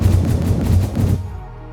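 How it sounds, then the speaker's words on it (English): An old-style cannon fires in the Satisfactory video game, a rapid run of heavy booming blasts that ends abruptly, leaving a low rumbling tail. "Now this is the old style of cannon"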